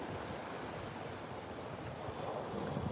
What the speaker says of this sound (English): As you can probably see, some of these waves are getting a bit bigger up here.